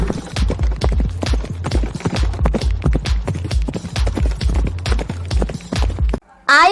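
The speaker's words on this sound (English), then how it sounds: "Horse." Rapid, steady clip-clop of horse hooves, loud and close, in an even rhythm that stops abruptly near the end.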